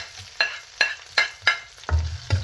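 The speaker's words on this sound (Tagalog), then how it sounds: "Lutuin muna natin yung bawang. Kailangan golden brown." Garlic sautés in a pan for a pork mince dish, a quiet sizzle punctuated by about six distinct spatula taps and scrapes at an uneven rhythm, close by and with no speech.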